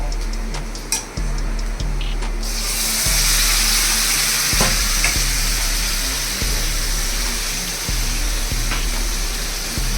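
Water from a rinsed bowl that held ginger and cumin paste splashes into a hot frying pan, setting off a sudden loud, sustained hiss of sizzling after a few soft clinks, alone without speech.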